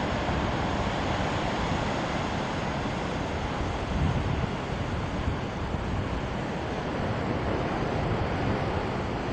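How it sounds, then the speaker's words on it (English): Big ocean waves crash and surge along the rocky coast at Cape Spear, Newfoundland, as a steady, loud broadband roar with wind buffeting the microphone throughout, no voices. "this is the big waves at Cape Spear"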